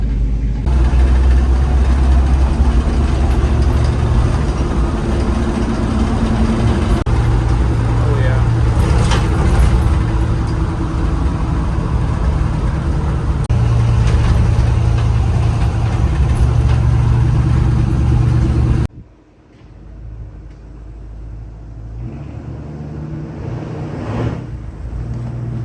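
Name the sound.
car engine running while driving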